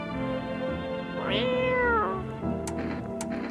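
A house cat in the game No I'm Not Human gives one drawn-out, rising-and-falling meow over a steady, humming game soundtrack, followed by a few soft clicks.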